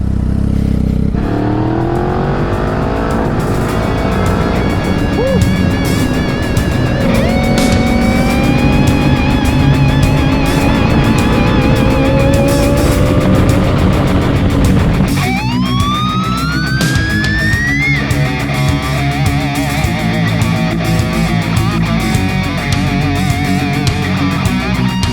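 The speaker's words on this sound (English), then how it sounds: "That SC Project exhaust has a really nice tone to it." A Triumph Speed Triple S motorcycle fitted with an SC Project exhaust is ridden hard, its loud, close engine climbing in pitch through the gears with sharp drops at each shift and a raspy exhaust note throughout.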